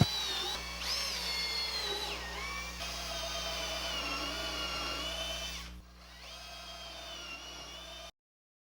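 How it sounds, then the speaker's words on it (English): A power drill whines steadily as it bores through a plywood board in a woodworking shop, its pitch wavering under load, then dropping slightly before stopping abruptly. "as long as I just drill through the front"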